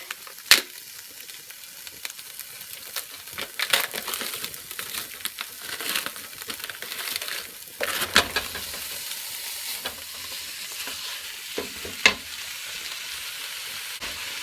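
Steady sizzling and crackling of ground beef frying in a pan, with occasional scrapes and clinks of a utensil stirring through.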